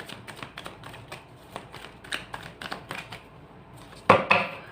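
Oracle and tarot cards being shuffled in a steady run of soft flicks and taps at close range, ending in a sharper louder slap, with no talking.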